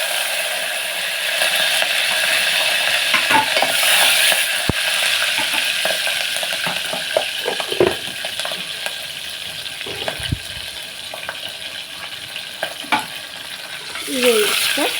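Spices including bay leaf, cardamom, cloves and cinnamon sticks, with green chillies, fry in hot oil for mutton curry, giving a steady close sizzle broken by stirring scrapes and clinks.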